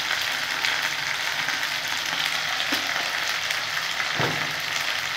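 Potatoes fry in a pan, giving a loud, constant sizzle that is close and fills the whole stretch, with a couple of faint utensil knocks and no talking.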